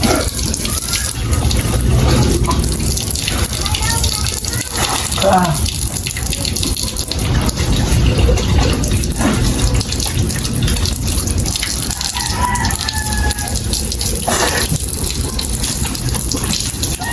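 Water runs for a bath, a loud, close and continuous gushing stream like a tap or hose pouring, steady throughout with slight splashing variations.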